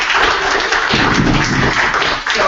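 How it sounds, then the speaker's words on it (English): Comedy class showcase audience applauding the teen performers, a dense continuous wash of clapping that holds steady for a couple of seconds before briefly dipping near the end. "let's give them a round of applause for everything first"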